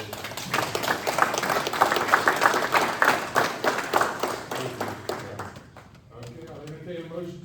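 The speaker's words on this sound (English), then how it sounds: "how about a round of applause for our elected officials?" Audience applause at a Madison County board of supervisors meeting: dense, steady clapping for several seconds that thins out near the end, with talk beginning as it fades.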